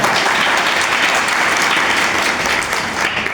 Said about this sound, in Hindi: इस भाई के लिए धन्यवाद, ताली बजाओ